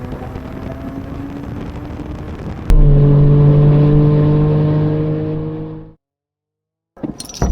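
A modified Suzuki Cappuccino kei car engine accelerates hard, a loud buzzy drone climbing in pitch through a gear, then fading out before a short burst of noise returns.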